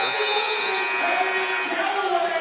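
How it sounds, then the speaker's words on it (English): Sustained buzzer sounding at the end of the first quarter of a TBT 2019 basketball game, D2 against the Bluegrass Boys, a steady loud tone with crowd noise underneath lasting the whole stretch. "to Levon Holland, who swings it to Galloway, who banks it in at the buzzer"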